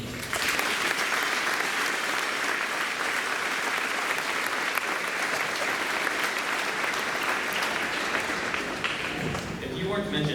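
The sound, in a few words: audience applause for student achievements at a graduation ceremony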